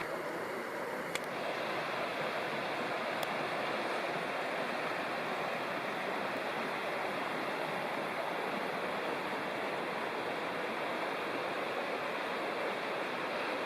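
Paint Creek in Cherokee National Forest rushes steadily beside a backcountry campsite, a dense, even wash of flowing water with no voices, constant throughout.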